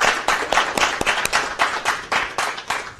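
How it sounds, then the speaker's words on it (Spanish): An audience claps hard and steady for a few seconds, a dense patter of hands swelling in short waves with no voices over it. "Dense un aplauso bien fuerte ustedes."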